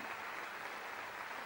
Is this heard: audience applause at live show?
yes